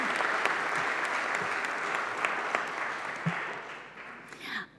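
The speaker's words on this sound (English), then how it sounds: "think they deserve an applause all," Audience applause during the opening remarks of a forum and exhibition, a sustained, even crowd clapping with a few sharper claps, tapering slightly toward the end.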